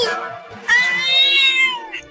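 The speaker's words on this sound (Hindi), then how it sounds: "मियाऊ, ये मियाऊ क्या है?" A cartoon cat lets out a loud, drawn-out meow, a short call followed by a longer rising and falling wail, close and clear.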